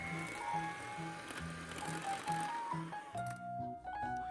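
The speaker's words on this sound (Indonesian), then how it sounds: "Kemudian kita mixer perlahan seperti ini." An electric mixer runs slowly through chilled flan cream dough for a choux cream puff filling, a faint mechanical whir with a regular rhythmic pulse and a brief change in tone near the end.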